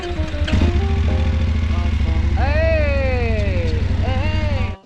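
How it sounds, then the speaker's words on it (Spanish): A motorcycle engine runs loudly and steadily just after a jump-start with battery cables, its fast even rumble continuing for several seconds while a voice talks over it before cutting off at the end. "Enciendes la motocicleta, le das al contacto y debería funcionar."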